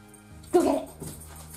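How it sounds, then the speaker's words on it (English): A dog barks once with a short yelping burst in the background of a room, followed by a fainter whimper, while a person speaks quietly nearby. "I'm sorry for my dog barking in the background."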